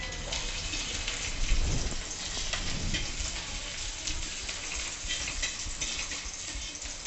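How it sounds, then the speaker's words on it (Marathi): Crushed garlic dropped into hot oil on a flat pan gives a steady, crackling sizzle, close and constant, with a brief louder burst early on. "तेल गरम झाले आहे। त्यात घालूयात ठेचून घेतलेला लसूण"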